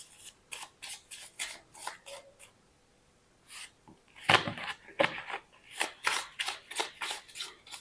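Tarot cards being shuffled and handled, giving a run of crisp papery flicks and riffles, then a short pause and louder, denser riffling and card snaps close by, with no talking.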